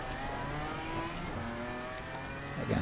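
A BMW M4 GT4 race car engine in Assetto Corsa Competizione at Laguna Seca, a steady droning whine at moderate distance while power sliding, with a brief rougher burst near the end.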